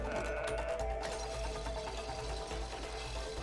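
Sheep bleating sound effect in the co-op video game It Takes Two, a short wavering bleat near the start, followed by steady background game noise and a low hum.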